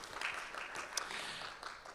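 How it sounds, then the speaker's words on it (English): A small audience gives a brief, soft round of applause, scattered hand claps blending into a light continuous patter that fades after about two seconds. "give yourself a round of applause for joining us"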